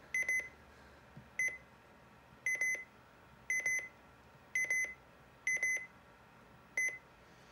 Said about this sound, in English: So yeah, that's the WR300 version 8.